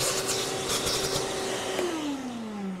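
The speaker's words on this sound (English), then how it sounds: "This vacuum is something we're going to be running just about the entire time here." A vacuum cleaner runs steadily and loudly throughout, its motor drone dropping slightly in pitch near the end, in a shop setting while 20-inch double bead lock LMTV rims are being mounted.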